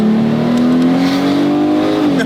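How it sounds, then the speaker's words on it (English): A minivan's engine revs while driving, making a loud, steady, close droning hum whose pitch climbs slowly and then dips slightly near the end, over road noise. "You're gonna blow up the engine."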